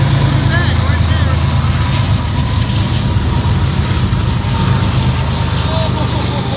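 BNSF locomotive 1021 rolling past at a railfanning spot, a loud, steady rumble of engine and wheels that stays constant throughout with faint squeals above it, as people talk over the noise.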